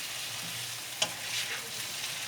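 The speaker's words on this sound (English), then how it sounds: "it should just be stir fried for like a minute" Broccoli stir fried in a pan with garlic and oyster sauce, a steady close sizzle with a sharp scrape of the utensil about halfway through, no voices.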